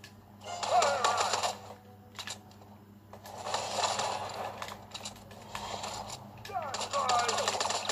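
Rapid gunfire from a video game shooter played with a new controller, bursts of clattering shots alternating with quieter gaps, mixed with game sounds and a speaking voice over a steady low hum.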